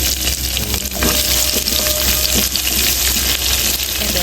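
Onion going into a pan of hot oil beside fried new potatoes for beef curry, a loud, steady sizzle with light stirring scrapes and no talk.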